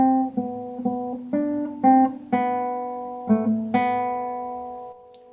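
A short run of single plucked notes at an unhurried pace, some ringing longer than others, played alone and fairly close.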